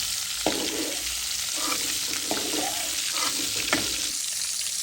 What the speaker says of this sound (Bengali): ভাজা হয়ে গেল মাছটা।